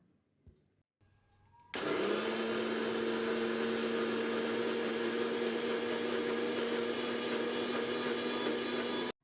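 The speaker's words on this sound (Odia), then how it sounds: "ଚାଉଳକୁ ମୁଁ ଗ୍ରାଇଣ୍ଡ କରିନେଲି।" An electric mixer grinder grinding soaked rice with a little water starts with a click and then runs as a loud, steady, high-pitched whirring drone at close range, before cutting off abruptly at the end.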